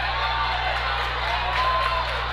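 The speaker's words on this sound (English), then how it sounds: "Altoona crowd letting them have it on that one" A gymnasium crowd at an Altoona girls' varsity basketball regional final roars in steady, loud protest after a charge call, with a sustained wash of jeering voices throughout.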